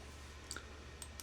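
A computer mouse gives two quick, faint, crisp clicks in close succession, followed shortly by another pair of light clicks, heard alone against quiet room tone.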